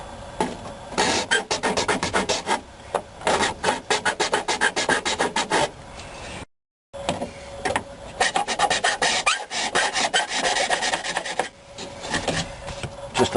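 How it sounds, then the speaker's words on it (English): A hand file rasping back and forth across a car dashboard's plastic panel while fitting an aftermarket radio, steady repeated strokes in bursts with a brief pause midway, close and fairly loud, no talking. "just take a file, since it's pretty easy filing, and file this plastic"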